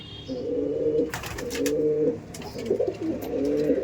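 A female Madras pigeon coos in repeated low, throaty phrases, three or four rounded calls in steady rhythm, close by, with faint bird chatter and a few brief clicks behind.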